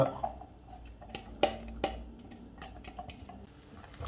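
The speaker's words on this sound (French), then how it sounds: "On mélange à nouveau." Salt cod fritter batter with onion and parsley is stirred in a bowl, a faint, quiet scraping broken by several sharp clinks of the utensil against the side.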